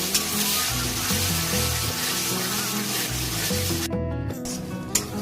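Spice masala for mutton curry fries and is stirred in a kadai, a dense sizzle with scraping strokes that briefly drops away near the end before resuming.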